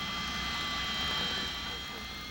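A Blackbird reconnaissance jet with two massive Pratt & Whitney J-58 turbojets roars steadily with a dense, whining engine drone, loud and unbroken, while a narrator talks over it.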